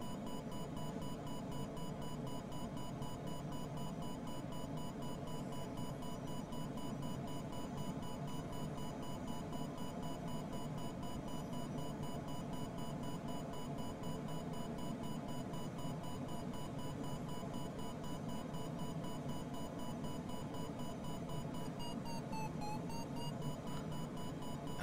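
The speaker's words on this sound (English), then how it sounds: "Hope you guys like the sound of beeps, because we're gonna hear a lot of it today." Repeated electronic variometer beeps sound steadily in a glider soaring with no engine in Microsoft Flight Simulator 2020, a continuous pulsing tone over a constant wind-like hiss, with no talking.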